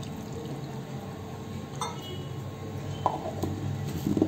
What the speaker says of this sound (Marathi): थोडं पाणी टाकूया